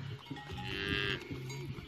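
A cow moos in a long, low call on a farm as it is led along by a rider on horseback, the sound close and steady, with no talking heard.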